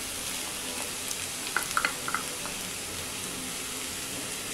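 A crushed coconut and onion mixture frying in a pan for an egg stir fry gives a steady sizzle with a few brief clinks of stirring mid-way, no voices.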